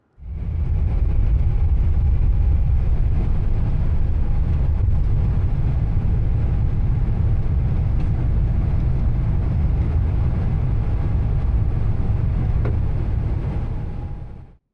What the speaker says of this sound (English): Not long after boarding, we were able to take off on time.